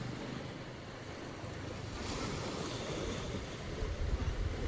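A boat moves out across the sea toward a coastal fort, its steady wash of surf and water blended with strong wind buffeting, loud and constant with no voices.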